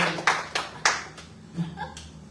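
Several sharp, separate hand claps ring out in a church congregation during an Indonesian sermon, a short scattered burst of about four claps that quickly thins into quiet.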